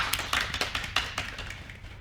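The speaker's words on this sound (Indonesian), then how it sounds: "beri tepuk tangan dulu untuk kelompok 2" Classroom applause for a student group during a microteaching mathematics lesson: a short burst of moderately close, uneven handclaps from a small group, thinning out after about two seconds.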